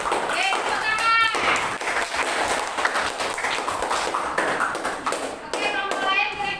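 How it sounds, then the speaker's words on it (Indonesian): Students in a high school classroom clap their hands together for a few seconds, a lively patter of claps mixed with children's voices and chatter over the top. "tepuk tangan"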